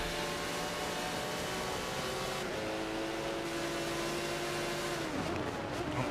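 Race cars in a sim racing game at Spa-Francorchamps drone steadily throughout, several engine tones layered together, with one pitch holding high then dropping sharply near the end as a car shifts or brakes.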